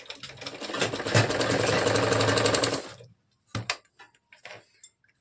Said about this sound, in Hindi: अब आपको यहीं पे सिलाई चलाना है।